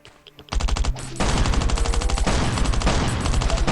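Loud, nonstop automatic gunfire from the video game Last Island of Survival, with fast repeating shots in a dense, unbroken stream that gets heavier after a short opening burst.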